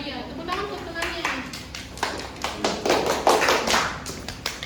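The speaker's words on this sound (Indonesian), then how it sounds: "tepuk tangan untuk temannya" Students in a classroom clap for a group of classmates who have just presented, a scattered round of light handclaps that builds toward the end, with children's voices chattering over it.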